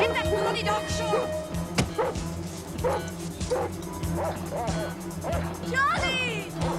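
Repeated sharp barks and yips from a dog in a 1980s British police drama, coming in an irregular run over a steady low hum, with a high whining yelp near the end.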